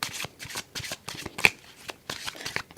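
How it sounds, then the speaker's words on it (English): A tarot deck being shuffled by hand, loud close riffles and slaps in quick repeated bursts with brief gaps, no talk. "from this deck, I'll be picking 8 cards"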